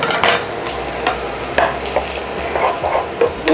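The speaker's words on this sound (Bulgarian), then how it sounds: "Добавям чесъна." Garlic frying with golden onions in a pan for a spinach and cheese tart, a steady close sizzle with repeated scraping strokes of a spoon stirring through the pan.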